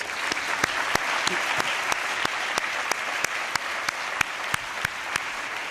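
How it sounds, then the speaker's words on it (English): Applause from the audience at a business school EMBA commencement ceremony, a dense and steady wash of clapping with sharp individual claps standing out, continuous and fairly close throughout. "Please help me give them a round of applause."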